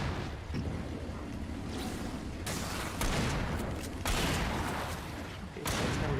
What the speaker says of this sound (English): shotgun won't isn't that great of a weapon in range